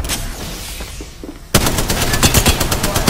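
Rapid automatic gunfire from Apex Legends bursts in suddenly after a quieter stretch of scattered shots, then pounds on as a loud, dense, continuous volley of close shots.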